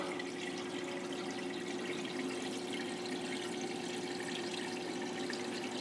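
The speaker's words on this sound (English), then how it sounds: "water spills into the pre-filter compartment" An aquarium tank filling after pump repair, water pouring steadily and spilling into the pre-filter compartment, a constant close rushing and gurgling wash with a faint hum underneath and no talking.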